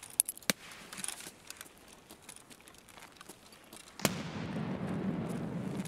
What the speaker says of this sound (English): That was your grenade?